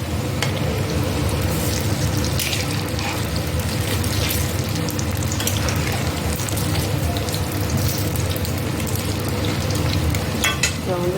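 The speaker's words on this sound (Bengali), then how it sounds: "এইভাবে সবগুলো আস্তে আস্তে ভেজে এরকম ব্রাউন কালার করে নামাতে হবে" Chicken Manchurian pieces in batter fry steadily in hot oil over low heat, a continuous dense sizzle with faint crackles and occasional stirring clinks, close and loud with no talking.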